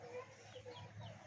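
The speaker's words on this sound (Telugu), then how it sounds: "జుట్టు కోడి." Crested hen clucking in a home yard, a few soft, close clucks over steady low background noise.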